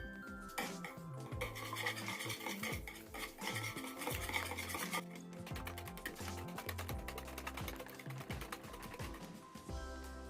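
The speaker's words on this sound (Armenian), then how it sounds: "Մեր այս զանգվածը հարում ենք։" Stirring a donut dough mixture with sugar and salt in a bowl, a dense run of scraping, clinking strokes continuing steadily and close throughout.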